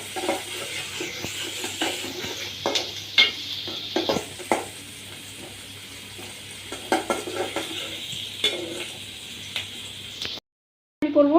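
Garlic and onion sizzle in a pan for a Bengali mutton and egg moglai, a steady close frying hiss broken by frequent scraping stirs and light clinks of a utensil against the pan, ending in a brief silence.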